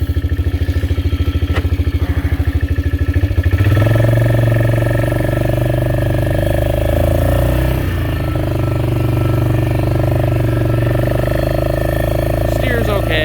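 A 2000 Polaris Trail Boss 325 2x4 four-wheeler engine runs steadily nearby, a rough low idle that rises to a fuller, louder drone about a third of the way through and holds there.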